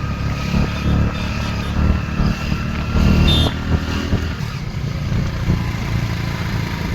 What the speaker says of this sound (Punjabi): ਮੋਟਰਸਾਈਕਲ ਦੇਖਦੇ ਆ ਬਾਈ ਕਿੱਥੇ ਤੱਕ ਜਾਂਦੇ ਆ